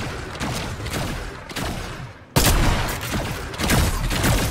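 Pulse rifle fire in a first-person shooter video game, sounding as dense, continuous bursts of rapid shots that are loud and close, broken by one short pause midway.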